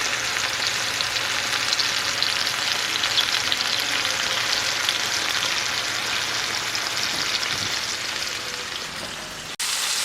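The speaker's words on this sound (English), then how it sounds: "oil is hot, hot, hot. Put in our gills here." Deer meat fries in hot oil with a dense, steady sizzle and crackle that stays loud throughout and softens slightly near the end, with no talking.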